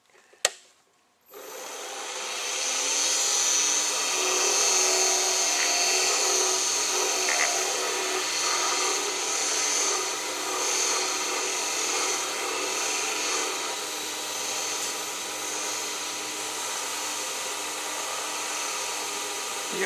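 Wood lathe spins a torched pen while carnauba wax is pressed on to melt in, a brief click giving way to a steady, continuous high whirring hum close by.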